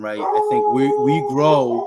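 Dogs howl and bark in the background over roughly two seconds, a drawn-out whine rising and falling beneath a voice speaking close by.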